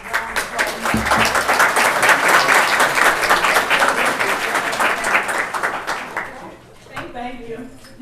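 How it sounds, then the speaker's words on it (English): An audience at a Clayton County Board of Commissioners business meeting gives the Parks and Recreation Board a round of applause. The clapping is full and sustained for about six seconds, then thins out and fades as a few voices begin. "let's also give the Parks and Rec Board a round of applause"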